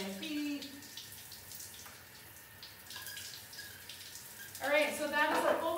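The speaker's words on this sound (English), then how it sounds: "that is a full body shower blast" A shower sprays water over the body in a bathroom, a steady hiss that rises sharply near the end, with a person talking over it.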